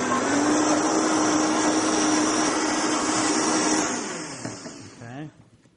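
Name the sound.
blender blending a drink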